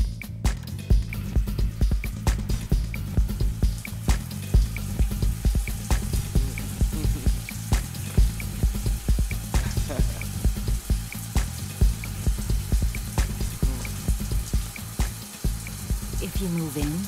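Water runs steadily from a broken faucet during a bath, a continuous splashing stream with dripping, heard alone throughout.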